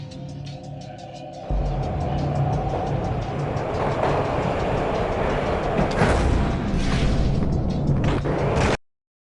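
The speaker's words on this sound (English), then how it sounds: "This was my second train ride of the night." Train ride in the video game Max Payne: a steady, loud rolling rumble of railcars on track, starting abruptly and continuing alone with rising clatter and hiss before cutting off.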